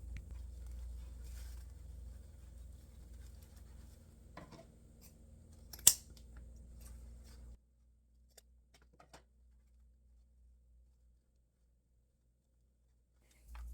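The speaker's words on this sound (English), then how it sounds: "Once I have it tied off in the back, I'm going to trim it up" Scissors trimming ribbon on a handmade fall wreath built on a wood bead frame, with a few soft, quiet snips and rustles, one sharper cut midway, then near silence.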